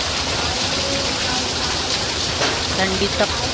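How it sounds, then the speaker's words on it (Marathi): Rain falling steadily outdoors after Diwali, a dense even hiss of drops on surfaces with a few faint tonal sounds in the background. "आमच्या इकडं जो आवाज आहे तो पावसाचा आवाज आहे."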